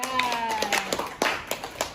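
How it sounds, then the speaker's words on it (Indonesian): Clapping for Pak Jehan in a teacher training session: a handful of people clap in scattered, uneven bursts, while a voice carries on speaking over them. "tepuk tangan untuk Pak Jehan"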